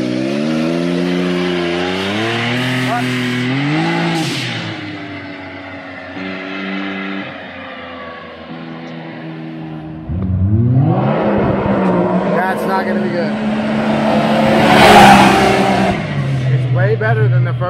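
A Mitsubishi Evo X Stage 5 revs hard and launches with spinning tires, its engine climbing through rising gear pulls, dropping off, then roaring up again loud and close, heard from inside with people talking over it.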